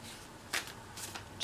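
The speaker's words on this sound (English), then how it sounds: "you can definitely shuffle them" Tarot cards from a New Enchanted Tarot 25th Anniversary deck being shuffled, giving two or three short, close riffling bursts over a quiet background.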